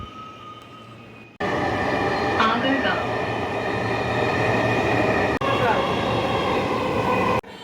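A Dhaka metro rail train runs along the line with a loud, steady mechanical rumble and whine that starts abruptly and holds, with a brief dip partway through.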